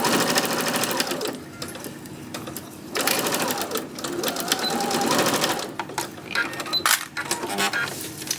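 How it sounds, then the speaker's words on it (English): A sewing machine stitches pieced fabric blocks in fast mechanical bursts, running, pausing and restarting several times, close and fairly loud. "I'm going to sew on this line, back stitching just a little bit"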